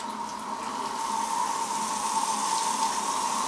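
Hot water pouring from a newly fitted single mixer tap into a sink, a steady close rushing splash with a faint tonal ring throughout.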